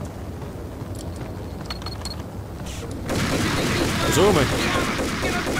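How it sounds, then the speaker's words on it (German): Gunfire from a Colt Commando rifle in the video game Max Payne: a dense, steady burst of shots erupts halfway through and continues loudly to the end, with someone talking over the quieter opening. "Der ballert."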